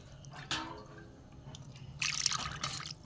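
Water splashes and drips onto crumbled Kashmiri paneer as it is rinsed again in a bowl, a brief drip near the start and a louder spreading splash and trickle toward the end, close and alone.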